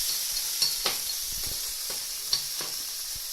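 Thai chili curry paste cooks in oil in a pan for a quick duck curry, giving a steady close hiss of frying with a few sharp spatula scrapes and taps, and no talking.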